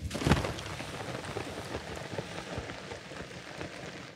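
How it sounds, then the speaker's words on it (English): In Zelda: Tears of the Kingdom, rain drums on the tarp of a hang glider as a steady, dense patter, with one sharper hit near the start and a faint low rumble beneath. "even like the sound of the rain hitting the tarp from like your hang glider"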